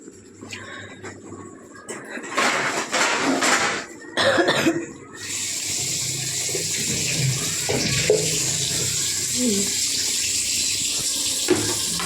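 A kitchen tap runs into a sink while a plate is washed. Intermittent splashing and a few coughs come first, then the water flows in a steady, close stream to the end.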